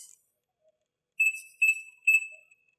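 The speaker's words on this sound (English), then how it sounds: "Press and hold the black programming button for 3 beeps." A Smart Caregiver TL-2100G fall prevention monitor gives three high, thin electronic beeps while its programming button is held. The beeps are evenly spaced, clear and close, with silence around them.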